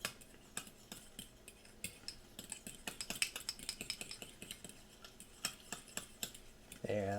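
Sriracha sauce being stirred into food with a utensil, producing a run of light clicking and scraping taps against a bowl, close and fairly quiet, with no talking.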